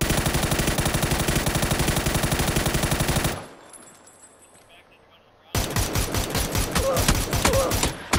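Rapid automatic gunfire in a shooter video game, bursts of loud close shots filling about three seconds, a quieter lull, then another heavy volley of rapid shots.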